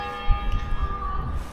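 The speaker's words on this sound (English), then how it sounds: "The bells are still going." Church bells ring in a Scottish graveyard, their sustained tones sounding at moderate distance over wind and outdoor rumble in a brief passage.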